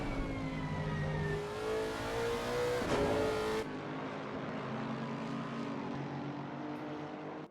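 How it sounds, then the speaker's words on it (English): Race cars in a racing video game at Monza whine at high revs, with pitch sweeping up and down through gear changes. The engine drone drops to a quieter, steadier hum partway through. "I love the way this car sounds."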